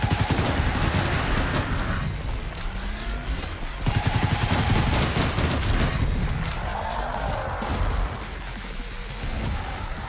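Dense, sustained gunfire and blasts from the Arcadegeddon video game during a hard boss fight, including a shotgun, with overlapping bursts and crashes filling the whole stretch at a steady, loud level.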